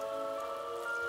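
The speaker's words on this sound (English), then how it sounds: "It's raining." Rain falls in a children's cartoon as a steady, dense patter under a sustained musical tone, continuous and even throughout.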